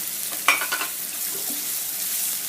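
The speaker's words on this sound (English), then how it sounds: "Now add onion, chopped onion." Chopped onion dropped into hot oil for a dry potato sabzi, giving a soft steady sizzle with a brief burst of crackling and stirring near the start.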